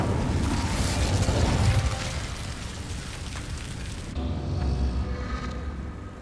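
Incendio fire spell cast in Hogwarts Legacy, a loud whooshing burst with a rumbling low boom that swells and fades, followed by a second fiery crackle against a dense game background.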